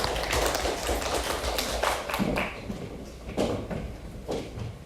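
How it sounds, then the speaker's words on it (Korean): Applause from a classroom audience after a student team's service design presentation, a steady patter of clapping hands lasting several seconds that gradually thins out toward the end. "박수 한번 해주세요"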